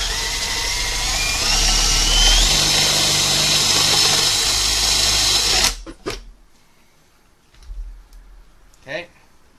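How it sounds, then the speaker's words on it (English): A power drill bores into a BMW MEVD boot pin jig, a loud continuous high whine for several seconds that stops abruptly, followed by faint clicks and handling noises. "from that point you're just going to want to drill"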